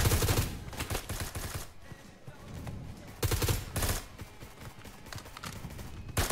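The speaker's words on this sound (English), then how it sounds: "I'm getting some shots from the back." Bursts of rapid gunfire in the video game BRM5 crackle in two loud clusters separated by quieter stretches of scattered shots, sharp and close with no talking.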